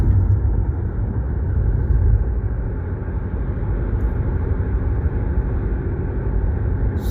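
A car being driven, with a loud, continuous low engine drone and road rumble heard from inside the cabin, steady throughout with no talking.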